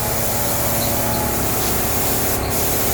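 A spray gun hisses steadily as primer goes onto the body of a 1938 SS Jaguar 3½ Drophead under restoration, one continuous loud near spray without pauses.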